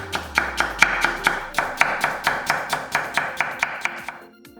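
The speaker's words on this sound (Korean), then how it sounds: "가지런히 정리해서 같은 두께로 채 썰기" A knife cuts thinly sliced potatoes into matchsticks on a cutting board, steady rhythmic chopping taps about three or four per second, close and crisp, with no voices.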